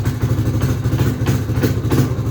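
A Honda Rancher ATV engine runs in reverse gear after a repair, a steady close mid-low idle chug with light mechanical clatter and no talk.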